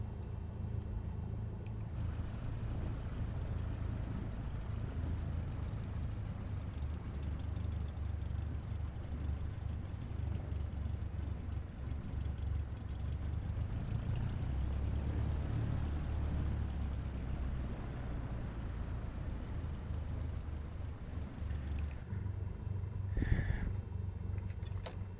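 Aircraft engine idling on the ground after parking in a flight simulator, a steady low drone with a brief louder bump near the end, no one talking.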